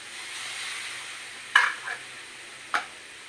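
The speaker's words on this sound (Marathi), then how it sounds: "हे बघा आता हे मस्त तेल सुटस तर भाजून घ्यायचं" Masala roasting in oil in a pan gives a soft steady sizzle, with a few sharp clinks of a spoon stirring against the pan partway through; no voices.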